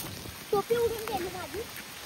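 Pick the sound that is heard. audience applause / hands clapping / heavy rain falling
heavy rain falling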